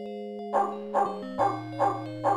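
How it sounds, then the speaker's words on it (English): A dog at its doghouse in the Call of Cthulhu: Shadow of the Comet video game barks five times in an even rhythm, close and clear over a faint steady game tone. "He's barking all day."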